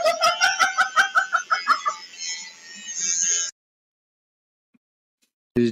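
A hen clucks in a rapid, loud run of sharp repeated notes, then a drawn-out squawk before the sound stops abruptly into silence, followed by a short burst at the very end.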